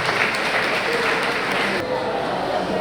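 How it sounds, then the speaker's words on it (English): Audience in a school hall applauding a student, a broad patter of many hands that cuts off abruptly partway, with voices murmuring underneath. "You can have applause for her."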